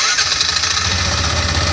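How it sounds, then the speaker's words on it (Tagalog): The engine of a Rusi Badja 200 carburetor-type motorcycle runs loud and close during an alarm installation test, a steady rough mid-pitched roar with no talking. "So umandar na yung motor natin at pwede na natin patayin na."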